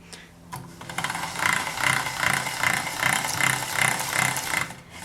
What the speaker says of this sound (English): if you crank your machine handle quite fast, you tend to prevent ripples that would happen